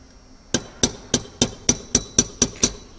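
Nine evenly spaced, sharp metallic taps of a small hammer on a Grainger punch, driving out a roll pin during an NR83A5 teardown; close and crisp with a ringing high tone, no talk.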